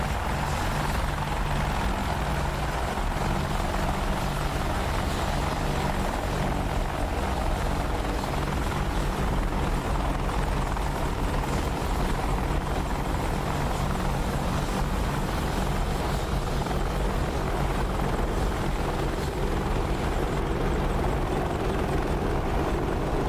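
An Apache attack helicopter flies in the DCS combat flight game, a constant loud rotor thrum and turbine whine filling the whole stretch without a break.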